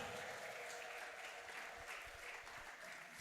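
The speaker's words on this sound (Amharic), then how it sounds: "ለዚህ ብርሃን ከፍ ያለ እልልታ፣ ከፍ ያለ ጭብጨባ" A church congregation at a Christmas sermon by Prophet Robel Hailu claps steadily, with high trilling ululation mixed into the applause. The sound is moderately distant and holds at an even level.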